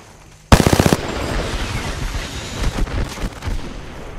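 Rapid automatic gunfire in the Apex Legends battle royale game: a sharp, loud burst of about seven quick shots up front, then a noisy rumble of combat with scattered distant shots and impacts.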